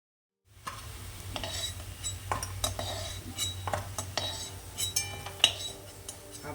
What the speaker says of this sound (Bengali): পকোড়াগুলো আপনি গোল করে সেভাবে ভাজতে পারেন আবার এইভাবেও ভাজতে পারেন